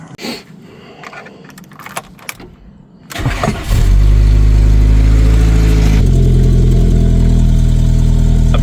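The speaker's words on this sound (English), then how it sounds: "I'm going to fire it up with a new distributor." VW Vento engine with a newly fitted distributor: faint clinks and rustling, then a starter whir catches and the engine bursts into a loud, steady idle that carries on close by.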